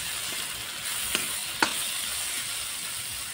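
Tomatoes go into a frying pan and crackle in a steady sizzle, with two sharp clicks of a utensil against the pan partway through and a few softer taps, no voices.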